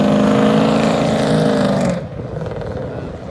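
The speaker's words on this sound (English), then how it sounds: "the LS1 was the loudest car there, bar none. It was super loud." A loud, roaring LS1 V8 car engine revs hard up close at a drift event, then cuts off abruptly, leaving a lower background rumble.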